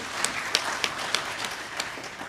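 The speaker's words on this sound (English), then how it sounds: "A round of applause to accept the declaration as a house, please" Members of a workers' parliament applaud to accept a declaration, a short burst of steady room clapping with a few sharper claps standing out, with no talk over it.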